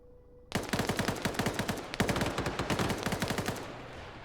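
Automatic gunfire in Arma 3: two long, rapid bursts of close, sharp shots, broken by a brief pause and trailing off near the end, with no voices.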